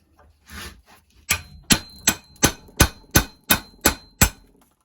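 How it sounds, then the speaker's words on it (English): Nine sharp metallic hammer blows strike a chisel against a rusted bolt head on a VW Polo Mk2 Breadvan brake caliper, evenly spaced and ringing, after some faint handling noise. "So now I'm going to just chisel off this last one."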